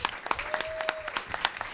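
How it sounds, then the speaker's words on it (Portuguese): A small seminar audience gives scattered, individual claps, distinct separate hand claps in an uneven rhythm, with a brief tonal sound running through the middle. "Uma salva de palmas para todos."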